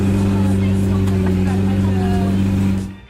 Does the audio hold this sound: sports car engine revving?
yes